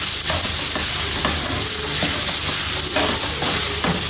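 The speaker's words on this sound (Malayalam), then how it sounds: "നന്നായി ഒന്ന് മിക്സ് ചെയ്ത് കൊടുക്കുകയാണ് ഞാൻ എല്ലാം കൂടെ" Jackfruit seeds and greens for thoran are stirred in a hot pan, with a steady loud sizzle and a continuous scraping of the spoon, no voices.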